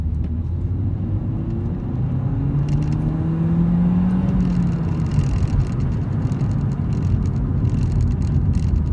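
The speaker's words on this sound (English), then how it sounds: "we're going to do a rolling start in second gear from 20 to 50." A Peugeot 208 GTI pulls from a rolling start in second gear, its engine a low, steady rumble that rises in pitch as it accelerates, heard from inside the car at moderate volume.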